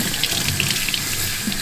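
Steady stream of water running from a kitchen sink tap, a constant close hiss with no talk over it.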